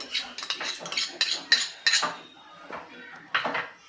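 A spoon clinks and scrapes against a bowl as curd is mixed into gopalkala, a sequence of sharp, close metallic taps and scrapes with short pauses between them.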